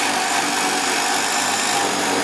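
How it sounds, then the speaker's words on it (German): A power drill with a wood bit from a 204-piece drill and bit set bores through wood, a loud, steady, unbroken whine throughout, close up with no talking. "Hier durfte ich ja jetzt mal durchbohren und da sieht man, wie rasant, wie schnell das geht."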